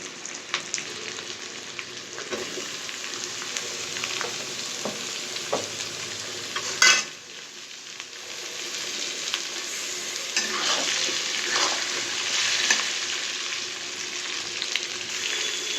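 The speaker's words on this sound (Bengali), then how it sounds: "কুমড়োগুলোকে ভালো করে একটু কষাতে হবে।" Pumpkin pieces stirred and sautéed in oil with fried potatoes and ginger-garlic paste, a continuous close sizzle with repeated scraping of a spatula across the pan and one sharper clatter partway through.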